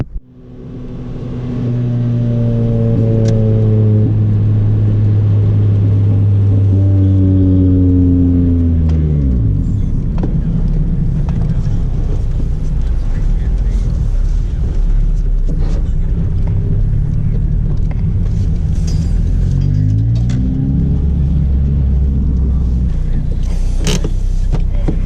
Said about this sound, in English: So driving here, the car is super bouncy.